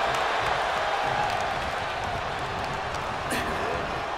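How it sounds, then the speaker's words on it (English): Simulated arena crowd from the wrestling game WWE 2K23 during a Royal Rumble match, a steady dense roar of cheering and noise running throughout at constant level, with no clear peaks. "Listen to this crowd."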